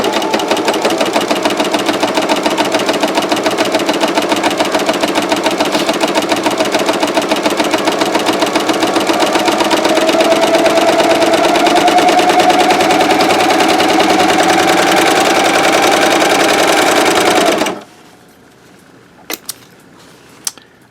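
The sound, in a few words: Janome CoverPro 3000 sewing machine cover stitching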